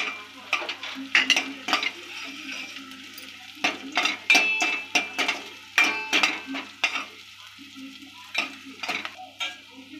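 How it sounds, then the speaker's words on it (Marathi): Cumin sizzles in a pan for Malvani-style misal while a spoon stirs it in bursts, with metallic scrapes and clinks against the pan, close and fairly quiet. "थोडंसं जिरं आणि हे परतून घेऊया."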